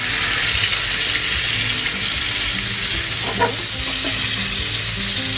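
Pieces fry in a pan as they are turned on both sides, giving a steady, loud hiss of sizzling oil with a brief stirring scrape partway through and no speech.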